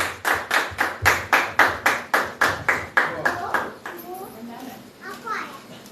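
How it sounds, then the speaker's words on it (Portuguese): A church congregation claps in unison for Jesus, about a dozen sharp rhythmic claps of many hands, loud and close, fading out as voices and children's chatter take over. "a salva de palmas do Senhor Jesus"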